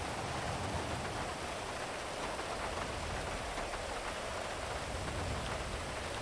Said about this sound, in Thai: เมื่อไหร่ฝนจะหยุดตกวะเนี่ย